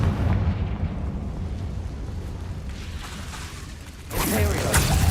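A Confringo explosive spell goes off in the video game Hogwarts Legacy, giving a loud, sustained rumbling blast that fades slightly before a fresh, sharper burst surges in near the end.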